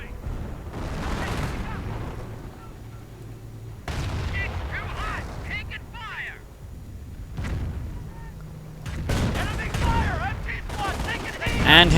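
Gunfire and bursts of machine gun fire with explosions from a WWII real-time strategy game battle, heavy machine gun teams and StuG assault guns in action, layered and continuous, rising toward the end, with a commentator talking over parts of it.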